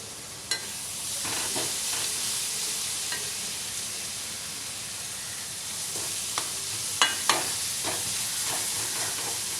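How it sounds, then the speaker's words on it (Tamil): Food sautéing in a pan gives a constant hissing sizzle, broken by several sharp clinks and scrapes of a utensil stirring against the metal, with nobody talking. "நல்லா அந்த வாடை போக வதங்கணும்"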